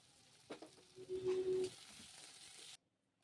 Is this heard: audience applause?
no